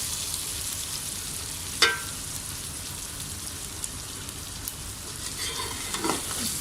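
Stuffed okra (bhindi) frying in a pan over low heat, producing a steady, close crackling sizzle with a sharp utensil scrape or clink near the start and another faint stir near the end.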